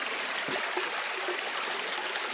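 A river stream flowing along a main river course at Lerryn in Cornwall, heard as a steady broadband rush of running water that holds even and moderately close throughout, with no voices over it.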